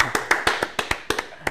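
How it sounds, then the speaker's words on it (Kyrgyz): Short applause at a quiz show, with around ten sharp, evenly spaced handclaps close by and no voices over them. "сизге кол чаап коелу"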